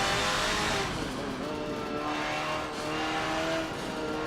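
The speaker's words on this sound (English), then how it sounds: "a lot of the race cars have this sort of sound when you go into interior view" In the Forza Motorsport 7 racing game, a race car's engine is heard from the interior camera view, a shrill, steady whine with rising and falling pitch held throughout.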